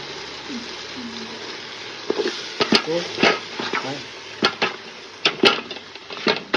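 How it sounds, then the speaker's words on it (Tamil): Chicken biryani stirred in a pot, with scraping clinks and soft sizzling scattered through the clip, several sharp knocks of the spoon against the pot, and a faint voice now and then beneath the cooking noise. "அதை கிண்டுங்க"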